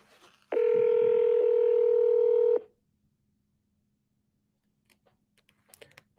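Telephone dialing tones ring out while calling someone back: a single loud, steady electronic tone holds for about two seconds, followed by silence and a few faint clicks.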